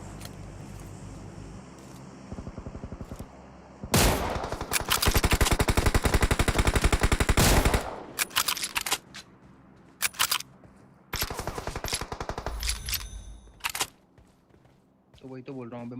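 Automatic gunfire in a PUBG Mobile match, with several loud, close bursts of rapid shots separated by short pauses, then a final burst before the shooting stops.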